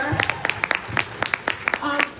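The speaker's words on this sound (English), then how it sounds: "Claps for Britt Lauer for sure" A studio audience at a New York cast Q&A for the TV series "Severance" claps in a brief, lively burst of close, overlapping hand claps.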